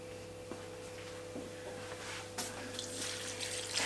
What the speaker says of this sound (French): je vais ajouter 2 litres d'eau dedans